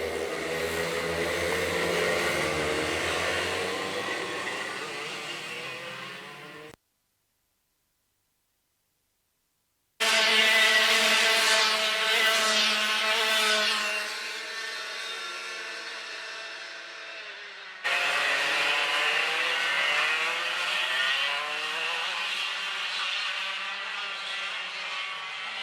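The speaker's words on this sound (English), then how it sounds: "The DRS 125s, the engines are on, and we are about to get underway with our second final of the day." DRS 125 racing kart engines at Whilton Mill circuit whine and buzz at high revs, rising and falling through gear changes, loud and close, cut off by a few seconds of silence before the engines return.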